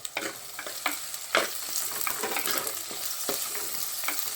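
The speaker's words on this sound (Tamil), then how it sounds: "நல்லா வதக்கிக்கலாம் இந்த வெங்காயமும் நல்லா பொன்னிறமாக வதங்கணும்" Onions sauté in a pan with pounded garlic for a dry fish curry, giving a bright continuous sizzle broken by repeated scraping strokes of a stirring spoon.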